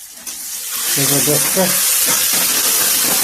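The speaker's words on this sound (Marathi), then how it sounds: "आता गावाकडची फोडणी जमलं" Spices sizzle steadily in hot oil for a village-style tempering, a loud broadband hiss running throughout while someone speaks over it.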